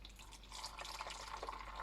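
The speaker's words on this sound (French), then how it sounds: "on remplit bien et on fait attention. Et on remplit pour faire 1 litre." Liquid homemade washing base is poured into a container, giving a soft, steady trickling and splashing pour, quiet and close, lasting under two seconds with no talking.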